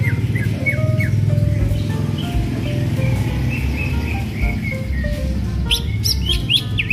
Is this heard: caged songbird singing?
yes